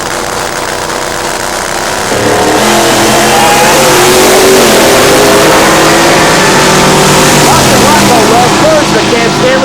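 Drag racing cars roar down the strip, a big inch Ford among them, the engine noise loud and steady after a sudden surge, with faint crowd or announcer sound beneath.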